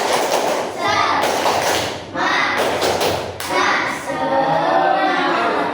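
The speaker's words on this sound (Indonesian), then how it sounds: "ayo kita tepuk semangat dulu" Students in a classroom perform a rhythmic spirit clap, with bursts of clapping and thumping in a patterned beat and children's voices mixed in.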